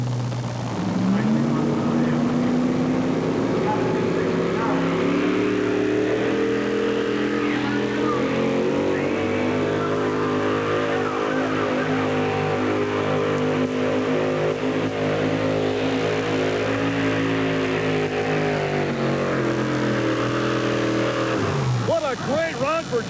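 A 4WD truck at a 1991 NTPA pulling competition in Rock Springs, Wyoming, roars through a full pull run, its engine loud and steady for the whole stretch, with the pitch rising and falling slightly before it winds down at the end.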